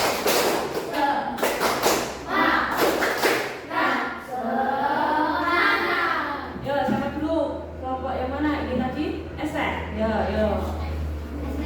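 A classroom of students claps a quick rhythmic spirit clap, a run of sharp, loud hand claps, then voices chant together over a low background hum.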